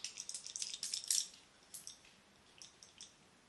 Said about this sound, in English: the sprayer on this is really weird, and I felt like I was getting massive blobs of like liquid